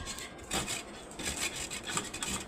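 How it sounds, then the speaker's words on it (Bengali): A raw mango is scrubbed with a kitchen scrubber while pickle is prepared: faint, irregular rasping rubbing strokes in short bursts, close by and quiet. "এই যে স্ক্র্যাবারগুলো আছে এটা দিয়ে আমি আমটা ঘষে নেব।"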